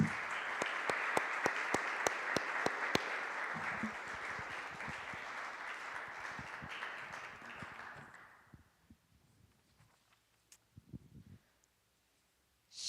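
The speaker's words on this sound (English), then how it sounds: "let's give them a round of applause" Applause from an audience at a History Makers honoree reveal event, sustained clapping from a crowd with a few sharp individual claps standing out, tapering away after about eight seconds into near quiet with scattered faint sounds.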